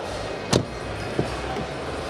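The door of a new-generation Seat Ibiza in grey shuts with one sharp, solid thud, then a softer click a moment later, heard close against a quiet background.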